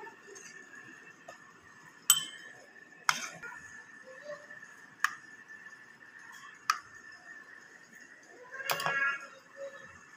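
A small glass used to serve a mango dessert gives four or five sharp, separate clinks spaced a second or two apart. A last cluster of clatter comes at the end, faint and close, over a quiet room.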